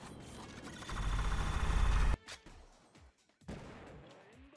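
Sniper gunfire from a 2v2 ranked anime battle arena game: a loud, dense two-second burst of shots that cuts off sharply, followed by a few scattered, fainter cracks and quiet gaps.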